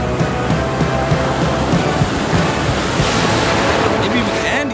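Ocean surf rolling in at a beach near Tofino on Vancouver Island, a loud continuous roar of breaking waves mixed with heavy wind buffeting the microphone.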